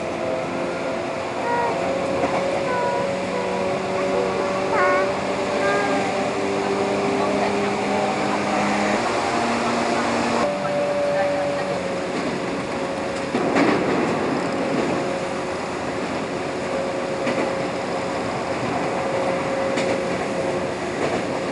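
A 1991 Seibu Line commuter train running between Higashi-Murayama and Hibarigaoka, heard from inside: steady rolling rumble with motor whine and faint rail clicks, rising and falling tones as it accelerates and brakes, continuous throughout.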